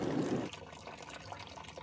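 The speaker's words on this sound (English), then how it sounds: "we'll strain off the water and make sure to save the water" Water from boiled potatoes is poured off through a strainer. There is a brief splashing gush, followed by a soft, faint trickle and dribble.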